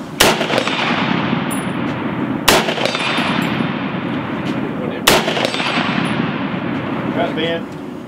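An Ohio Ordnance Works BAR 1918A3 rifle fires three loud, evenly spaced shots about two and a half seconds apart. The shots cut through steady outdoor rumble and background noise at a live-fire event.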